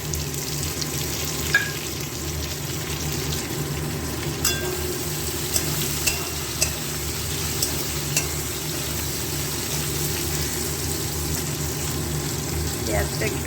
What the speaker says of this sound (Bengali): আলুগুলো লাল লাল করে ভাজা হয়ে গেছে, এবার এর মধ্যেই দিয়ে দেব পেঁয়াজ কাটা।